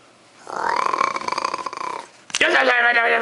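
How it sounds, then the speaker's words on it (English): A person snoring in a bedroom: one long, rough, rumbling snore breath that builds and fades, followed by a sharper burst of voiced sound, close and fairly loud. "You're snoring, you crazy."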